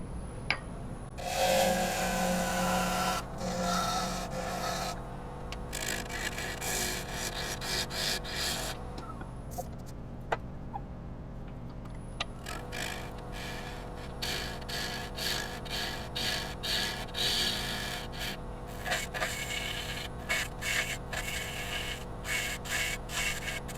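A woodturning tool cuts into a maple bowl spinning on a lathe, giving a rough, continuous scraping hiss that breaks into bursts and pauses as the cuts come and go, with the motor humming steadily beneath.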